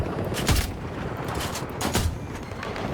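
Video game gunfire, a couple of sharp shots a second or so apart over a steady noisy background, fairly quiet overall.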